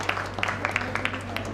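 A scattering of handclaps from a small group at a ladies' club Teej celebration, uneven and brisk, over a steady low hum.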